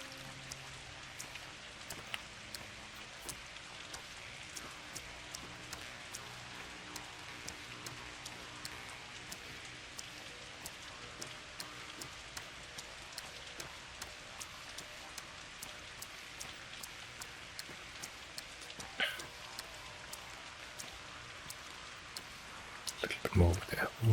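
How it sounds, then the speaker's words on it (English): Steady rain falls in the video game Pathologic 2, a dense continuous patter of drops with faint clicks, while a voice speaks quietly over it. "The rain is kicking in again."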